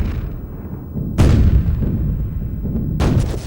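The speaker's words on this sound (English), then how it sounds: "the small gunboats can be seen directing rapid fire against the fortress" Artillery fire from small gunboats bombarding the Suomenlinna sea fortress, two heavy booms about two seconds apart over a constant low rumble of bombardment.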